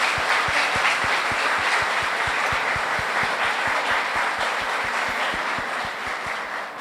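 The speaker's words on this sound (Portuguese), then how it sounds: "Nossas palmas" An audience at a university talk on indigenous education applauds indigenous representatives, a dense wash of clapping sustained for the whole stretch, over a low, regular pulse.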